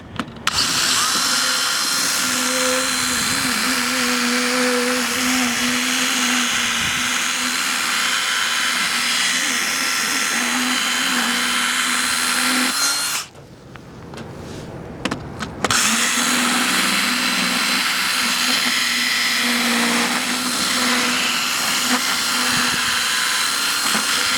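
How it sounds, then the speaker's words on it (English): A Dremel with a carbide bit drills steadily into a Medeco payphone lock, a close, continuous high whine that cuts out briefly partway through and then resumes. "the next step is with your Dremel carbide bit, you just open the hole up more into the pins so they have room to drop out"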